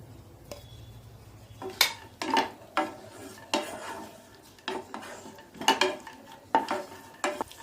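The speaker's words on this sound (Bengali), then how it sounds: "আমি ড্রাই ফ্রুটগুলো একটু ভেজে নেব" Dry fruits fry in two spoons of hot ghee in a pan as a utensil repeatedly stirs and clinks against the metal, sharp scraping knocks every second or so over a faint sizzle, with no talking.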